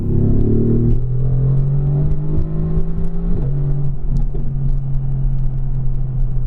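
A car engine rumbles steadily with shifting revs and a few sharp crackles from the exhaust, close and loud throughout.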